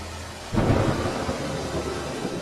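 Heavy rain pours steadily in the African bush where lions roam, with a deep rumble of thunder swelling in after a quiet start and rolling on beneath the constant hiss of the downpour.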